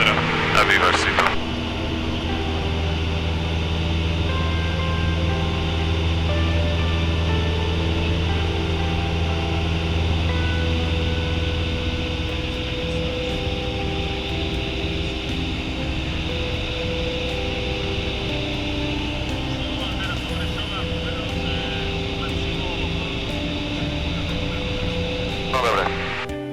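Steady, loud droning hum of a Cessna 172 engine and propeller, heard from inside the cabin during taxi and takeoff, with a constant whine and fan-like rush running without break throughout.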